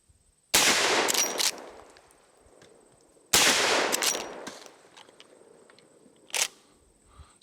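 Two loud, close rifle shots from a Marlin 1894 lever-action in .44 Magnum crack out a few seconds apart outdoors, each with a fading tail, followed by a fainter distant impact or shot.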